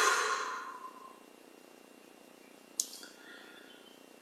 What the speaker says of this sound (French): On relâche tout et on expire.